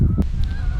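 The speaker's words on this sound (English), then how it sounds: "So all those geese just got up at once." Geese honk loudly as a flock lifts off a pond all at once, with a low rushing rumble of wings beneath the calls.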